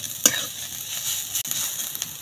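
Onions and crushed garlic fry in a pan with green chillies, a steady bright sizzle broken by a couple of sharp stirring scrapes, close and fairly loud.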